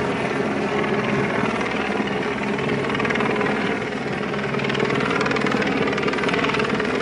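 A helicopter's steady, loud rotor thrum and engine roar fill the whole clip at a SailGP sailing race in Plymouth, constant and close overhead with no other sounds.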